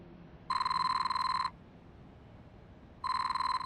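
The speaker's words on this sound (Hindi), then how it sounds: "कंप्यूटर जी, डोनिया जी को फोन लगाया जाए" A telephone rings while a call is being placed: two loud electronic ring bursts about a second long, separated by a pause of roughly one and a half seconds, with no talking over them.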